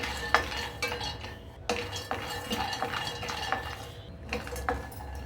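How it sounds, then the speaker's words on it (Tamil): Almonds roast over medium heat in a pan, stirred with a metal spoon that clinks and scrapes against it in irregular bursts, near and moderately loud with no speech. "அடுத்து பாதாம் சேர்த்துக்கிறேங்க. மிதமான தீயில் வறுத்துக்கோங்க."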